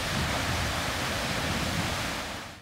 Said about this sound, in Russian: местами оглушительный рев водопадов